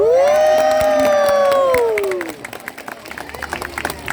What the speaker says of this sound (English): we're going to give him a really, really big cheer to say well done